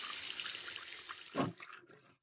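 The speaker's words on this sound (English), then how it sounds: "So all you do is this, and the water starts." Water runs from a touchless bathroom faucet into the sink, a close, steady splashing rush that cuts off abruptly near the end with a few drips after.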